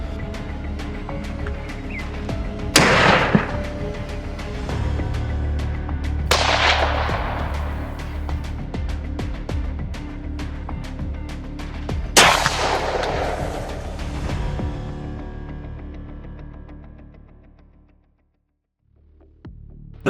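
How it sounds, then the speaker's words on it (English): Three loud, sharp gunshots from hunters firing at baboons from a hidden position, about four seconds apart, each with a long reverberating tail over a steady low hum, before the sound fades to near silence. "The primary method is to shoot from a hidden position targeting the largest, most disruptive males"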